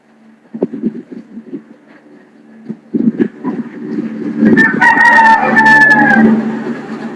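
A rooster crows loudly and close by, one drawn-out call that rises near the end, after a few softer clucks and rustling sounds.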